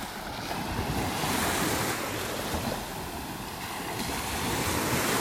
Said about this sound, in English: can see the little waves rolling in here